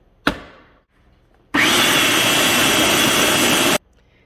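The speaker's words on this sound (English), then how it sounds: "we're going to give it another pulse to mix this together" A blender pulsing a graham cracker crumb mixture: a sharp clunk, a pause, then a loud, steady whirring burst of about two seconds that cuts off abruptly.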